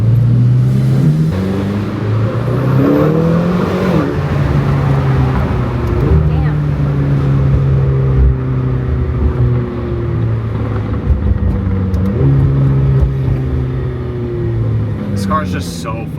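McLaren supercar engine pulling through the gears while driving in Miami. Its droning tone climbs and drops with each shift over about sixteen seconds, loud and close from inside the car, with road noise underneath.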